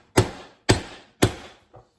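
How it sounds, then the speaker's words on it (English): A big hammer strikes a steel steering part of a 1964 MGB held in a vise: three sharp, evenly spaced metallic blows ring close and loud, then a softer fourth tap. "I'm going to take my big hammer and I'm going to hit it right here"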